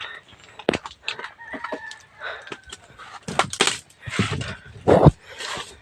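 Several roosters crow and cluck nearby, overlapping calls rising and falling in bursts, some close and loud, others farther off.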